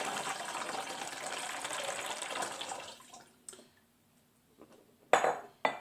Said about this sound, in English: First I pour in 4 cups of water.